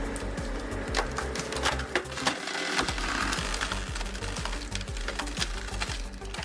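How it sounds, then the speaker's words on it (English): An excavator-mounted hydraulic log splitter works on a large log, a loud continuous machine drone with rapid rhythmic clattering pulses and a brief crunching split near the middle. "the hydraulic system pushes the splitting wedge to quickly split the log in half"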